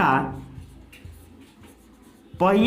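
A pen scratches faintly on paper while someone works through a maths problem about a wheel's circumference, the soft strokes falling between stretches of someone speaking.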